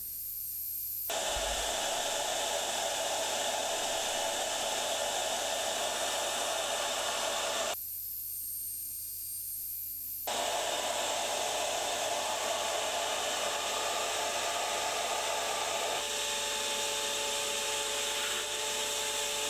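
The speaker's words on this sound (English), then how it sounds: "I'm just gonna do some more passes, another pass, change it to a half inch of depth, and hog all of that out" Shaper Origin handheld CNC router cutting deeper half-inch passes into wood, a steady loud whine with a short pause in the middle before cutting resumes, close and continuous with no talking.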